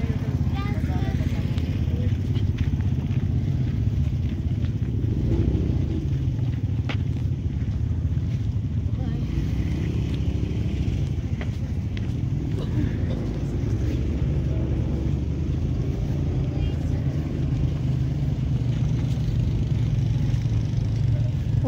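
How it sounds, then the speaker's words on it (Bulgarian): Engines of passing motorbikes and buggies drone and swell in the distance under steady wind noise at 5,036 metres in the Peruvian mountains, with people talking over them. "минават мотори и бъгита"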